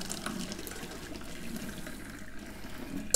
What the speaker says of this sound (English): Pasta, no need to refresh it, just through a sieve.